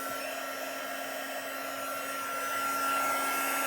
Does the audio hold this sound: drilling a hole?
no